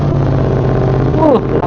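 A Benelli TRK 502X motorcycle engine idles and revs nearby, a steady throbbing rumble with a quick rising and falling rev near the end, while people talk over it.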